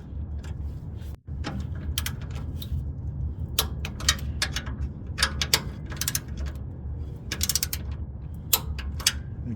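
A ratchet tightens a 12 mm bolt on the starter of a 1999 Acura RL, giving close, rapid clicking in uneven bursts with short pauses between strokes.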